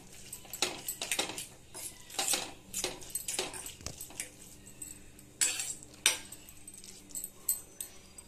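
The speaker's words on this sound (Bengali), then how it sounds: "এবার এটাকে ভালোভাবে আমি নাড়িয়ে নেব।" Maggi noodles are stirred in a pan after a pinch of salt, producing soft, irregular metallic clinks and scrapes of a utensil against the pan, quiet and close.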